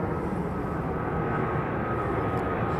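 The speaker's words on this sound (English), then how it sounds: "777 going out very low" A Boeing 777 airliner takes off low overhead, a steady, loud, broad engine roar that holds throughout with no talk.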